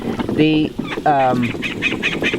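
Farm ducks of Rouen, runner, hybrid Rouen-runner and Australian spotted breeds give several loud, nasal honking calls close by, followed by a run of shorter, fainter repeated calls.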